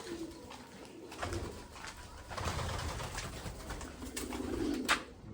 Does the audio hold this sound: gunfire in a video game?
no